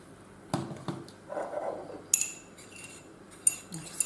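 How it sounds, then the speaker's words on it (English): A metal spoon clinks against a cup while stirring honey into hot tea, several sharp taps and chimes among soft swirling sounds, close and alone. "I'll just give that a stir and get that honey through there."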